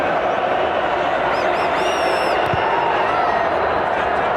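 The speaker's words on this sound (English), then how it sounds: "And the crowd riding him." A rugby crowd at a Canada vs Uruguay World Cup qualifier jeers the kicker before a conversion: a dense, steady roar of voices throughout, with a commentator talking over it.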